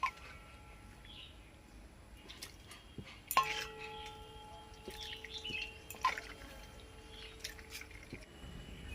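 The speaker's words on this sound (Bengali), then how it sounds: "ছানাটা এবারে আমি ছেঁকে নেব।" Freshly curdled chhana, split with vinegar, strains through a white cloth while water drips into a vessel below, with faint soft drips and a few light clinks of utensils in a quiet kitchen.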